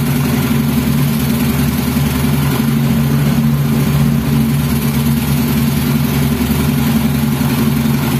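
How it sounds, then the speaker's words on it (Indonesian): A Yamaha Mio scooter engine idles steadily after a kick start, a loud, continuous close-up mechanical drone with no change in pace. "ini sepeda motornya sudah menyala ya"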